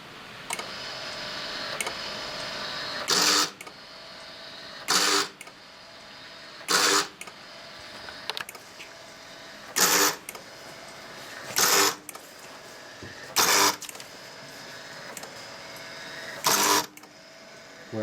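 An optical printer mechanism runs repeated printing cycles, with a loud, regular mechanical clack roughly every second and a half over a quieter running whir, close by and without talk.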